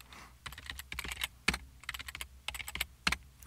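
Password being typed on a computer keyboard during user setup in a Drupal site: irregular bursts of close, crisp key clicks with short pauses, the last few strokes sharper and louder, no voices.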